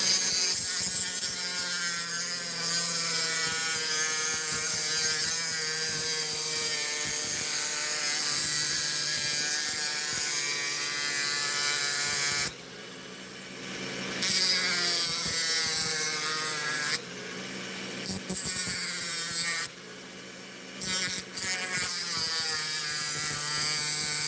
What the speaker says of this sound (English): This is my Dremel 4000.